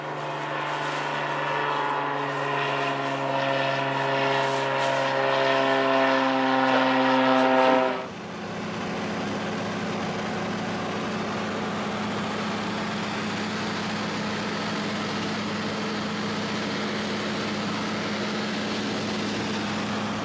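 A small plane flies near Tofino over Clayoquot Sound, giving a loud, steady engine and propeller drone heard from inside the cabin. A strong tonal whine drops away about eight seconds in and leaves a constant roar.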